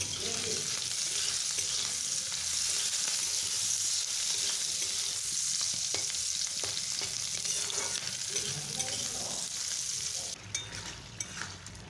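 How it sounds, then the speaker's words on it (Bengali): Fish frying in oil in a home kitchen, a continuous close hiss and crackle that goes on throughout and drops off slightly near the end, with faint clinks of stirring. "মাছ ভাজা হয়ে গেছে"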